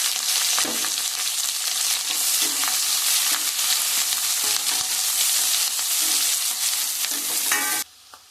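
Finely chopped onion and green chili pieces fry for coconut rice in a pan, a loud steady sizzle with periodic spoon stirring taps, close up, ending abruptly near the end.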